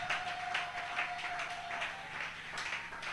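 A church congregation applauds during a worship service, steady scattered clapping of moderate loudness with a faint sustained tone in the background and no speech.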